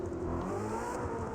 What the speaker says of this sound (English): Thing sounds so good when it cranks up.